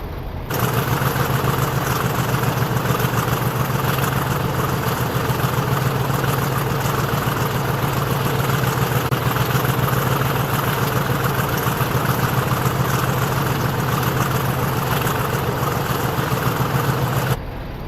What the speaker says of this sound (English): It's noisy when you get up the side of that engine